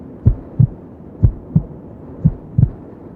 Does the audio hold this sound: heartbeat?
yes